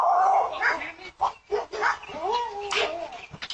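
A dog lets out several short, sharp barks and yips in a scattered rhythm, close by and mixed with excited voices talking over them.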